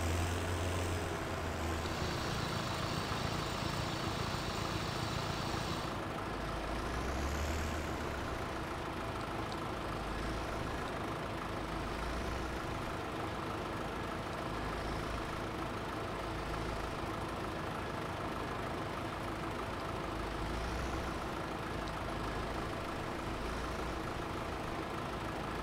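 A tractor idles in Farming Simulator as a steady low engine rumble that runs unbroken and moderately loud, with no one speaking over it.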